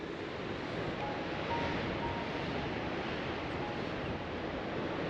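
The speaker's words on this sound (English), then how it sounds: "Crashing waves." Continuous rushing surf on the Shetland coast, a dense wash of breaking water blended with wind noise, steady and loud for the whole stretch with no voices.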